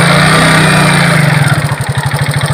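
A motorcycle engine catches after attempts to start it and settles into a steady, loud, close idle, its pulsing low throb becoming rhythmic toward the end.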